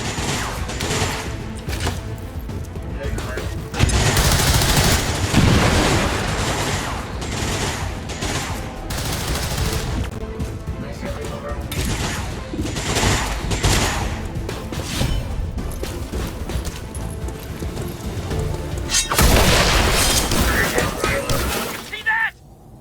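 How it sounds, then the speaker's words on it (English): A grenade explodes in XCOM 2: War of the Chosen, giving loud, crunching blasts with shattering debris. They stand out over a dense, continuous game soundscape, with a second heavy burst coming later. "Grenade thrown."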